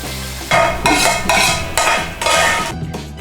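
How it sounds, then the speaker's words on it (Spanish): Onion and tomato sofrito fries in a pan, heard as bursts of loud sizzling and stirring that rise and fall in about five waves, with a few utensil clinks and no talking. "Vamos a hacer un sofrito de cebolla con el jitomate."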